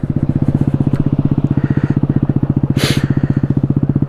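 A Kawasaki Z125 Pro motorcycle engine running close by with a rapid, even low pulsing beat, steady and loud for a few seconds with a brief higher burst midway.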